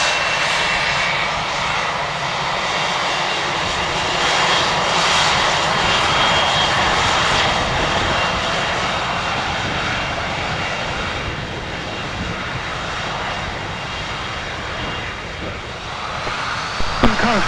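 A general aviation aircraft, Commerce Bank 1, takes off from runway 26 left at Spirit of St. Louis Airport, its engine roaring loudly and steadily as it climbs away, with faint voices underneath.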